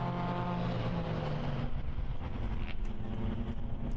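Suzuki Swift Cup race cars running at the Most circuit, with harmonic engine whine and rumble sounding close at first, then a steady roar with wind buffeting the microphone.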